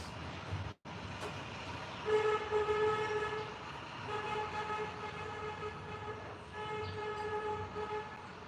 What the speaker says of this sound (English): Couldn't be a city without horns honking.